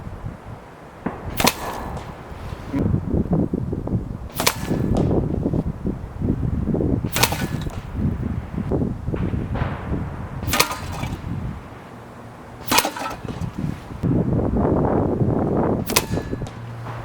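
Six sharp cracks from PCP airguns by Kral Arms and Hatsan firing slugs, spaced a few seconds apart, each loud and crisp against a steady background hum, no speech.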